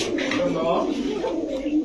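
Red Chila pigeons coo together in a dense, constant murmur in a wholesale pigeon shop. Someone speaks over the flock.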